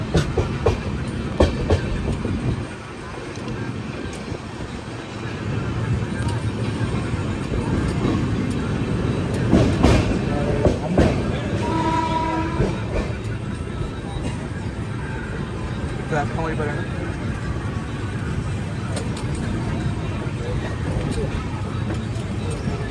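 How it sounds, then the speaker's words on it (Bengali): The Kanchenjunga Express train entering Bardhaman Junction station, a steady heavy rumble of wheels on track with occasional clanks and rattles, heard from on board at close range as people talk. "আমাদের ট্রেন প্রবেশ করছে বর্ধমান জংশন রেলওয়ে স্টেশনে।"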